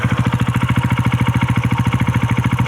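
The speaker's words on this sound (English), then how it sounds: "It's got a nice little idling pop sound." A modified KTM 690 Enduro R single-cylinder motorcycle engine idles close by with a steady, fast, even thumping pulse and slight popping, loud and alone.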